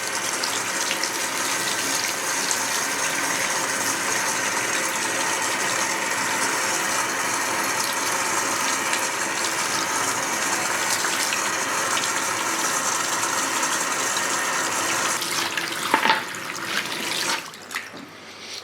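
Water runs steadily and close by while perm solution is rinsed out of hair, a continuous loud gushing wash that is broken by a few clunks and a drop in flow near the end.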